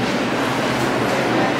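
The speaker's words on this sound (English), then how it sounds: "Right now we're waiting at the terminal." A train at a station terminal gives a loud, steady rumble and hiss of rail noise, close and unbroken for the short stretch, with no clear talk.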